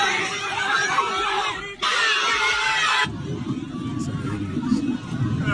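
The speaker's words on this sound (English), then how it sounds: "All that screaming." A crowd screaming and shouting during a heated debate on an HBCU campus, loud sustained babble and shrieks that shift abruptly midway into a lower, rumbling mass of chatter.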